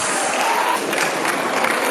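Audience applause at a 1983 year group's 40th homecoming anniversary, honouring the best Agric Science student: a dense, steady wash of clapping that fills the short moment evenly at a moderate level.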